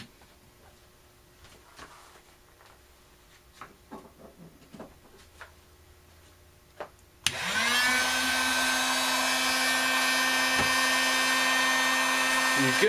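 A heat gun warms a Kydex holster for reshaping. After several seconds of quiet handling noises, it switches on abruptly and blows as a loud, steady whooshing roar to the end.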